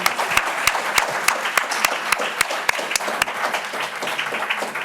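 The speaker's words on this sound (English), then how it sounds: "Let's give them a round of applause." Audience applause at a League of Women Voters debate between town clerk and tax collector candidates: a steady wash of clapping with sharp individual claps standing out, fairly close, with no talk over it.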